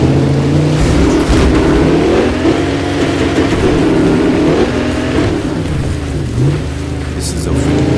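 A V12 car engine in the video game Car Factory Empire revving loudly, a dense roaring drone whose pitch rises and falls in waves, close and dominant throughout.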